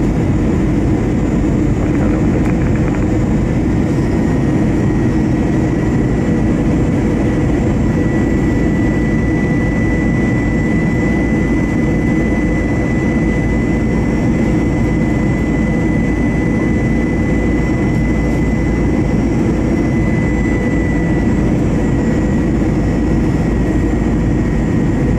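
A Delta jet airliner takes off from runway 27 right at Atlanta, its engines a loud, steady roar that holds for the whole stretch with no voices over it.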